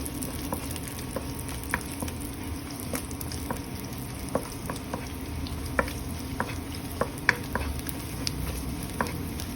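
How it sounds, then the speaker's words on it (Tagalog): Garlic sizzles steadily in bacon fat in a pan, with scattered crackles and pops over a continuous frying hiss and no talking. "saute the garlic"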